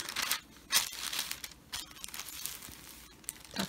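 Parchment paper crinkles and rustles close up while laid over fabric for machine appliqué, with irregular bursts of crisp crackling and a few soft taps.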